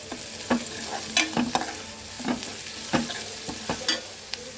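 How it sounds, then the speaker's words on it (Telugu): A spatula stirs fried onion and spiced potato filling for aloo paratha in a hot pan, scraping in an irregular rhythm of close, distinct strokes over a steady low sizzle. "కారం వేసుకొని కూరను ఒకసారి కలుపుకోవాలి."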